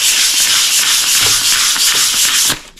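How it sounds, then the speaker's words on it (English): Sanding the body of a Wheel Horse lawn tractor after its stickers are removed: a loud, steady, close abrasive rasp with faint rhythmic strokes underneath, cutting off abruptly near the end. "Now that we got all the stickers and everything off of here, we can sand it down."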